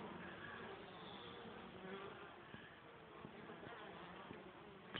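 Honey bees carrying pollen in and out of a hive on a July day make a soft, continuous buzzing that stays faint and even throughout, with no clear talking.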